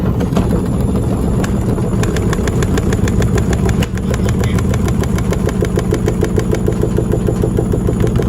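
A Candy SmartTouch washing machine runs an unbalanced final spin, a loud motor drone with rapid, regular thumping pulses from the drum that keep going at the same pace throughout.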